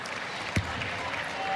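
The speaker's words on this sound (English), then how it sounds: "Nice round of applause for Aaliyah Edwards from the head coach" Applause from the crowd at a UConn versus Creighton women's basketball game ripples across a busy arena in a steady, moderate wash, with one brief louder thump standing out partway through.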